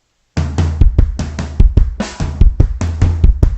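Close-miked drum set playing a kick-doubles groove: punchy paired bass drum strokes under steady snare and hi-hat in a tight repeating pattern, loud and alone, with no talking.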